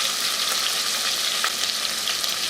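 Chicken pieces browning in hot oil inside a pressure cooker, a steady dense sizzle with faint crackling pops throughout, close and continuous with no talk.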